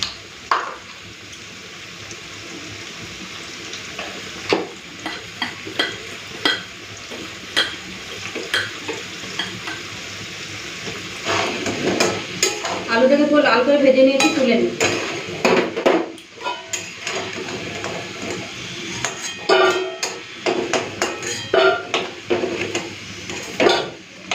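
Potatoes frying in a pan, a steady sizzle under repeated clinks and scrapes of a utensil stirring, with a louder, busier stretch of frying midway.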